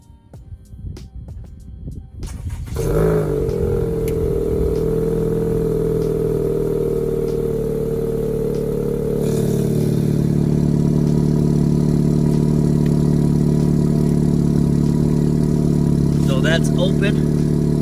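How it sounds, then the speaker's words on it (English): A 2019 Acura TLX cold-starts with its exhaust cutouts open: a brief cranking, then a loud, steady, deep idle drone that holds close and constant, rising slightly partway through, with no talking over it. "So this is the muffler for cold start. It's a cold start. Let's see how it sounds."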